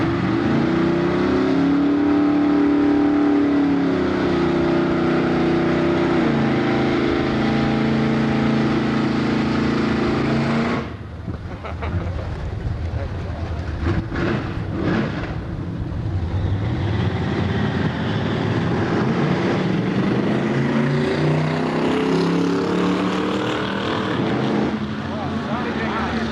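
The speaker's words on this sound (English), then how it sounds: "Stock car going down the 1320 in the hydromatic lane, getting there." A stock car racing down the quarter-mile at the 1992 Milan Dragway High School Nationals, its engine droning and shifting pitch as it pulls away, with an announcer talking over it throughout.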